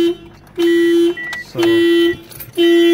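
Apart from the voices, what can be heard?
car alarm sounding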